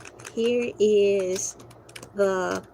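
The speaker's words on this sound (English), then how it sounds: "I'm actually typing that in there right now" Someone types on a computer keyboard with a steady patter of light key clicks, heard close and partly under intermittent tonal, voice-like sounds.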